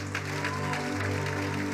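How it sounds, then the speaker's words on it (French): A church congregation cheers and applauds during a worship service, with scattered claps over a low sustained hum, brief and at moderate level. "Ton acclamation là est bizarre."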